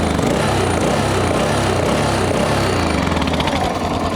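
Yamaha XT 600 3TB from 1992, a single-cylinder motorcycle, running loud and close with a rough, steady engine throb that holds without pause.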